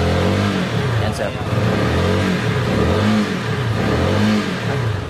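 A CF Moto 300SR motorcycle engine revved in repeated pulses toward 6,000 RPM, each throttle blip rising and falling in a steady rhythm, loud and close, with someone talking over it.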